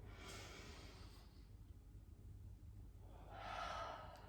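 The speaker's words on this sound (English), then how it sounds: "take in a deep breath. And another." Slow, deep breaths taken during a calming exercise, a soft airy inhale followed by a quiet pause and another breath rising toward the end, close and faint.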